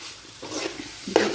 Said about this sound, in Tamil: நல்லா நல்லா கிண்டி விட்டுருங்க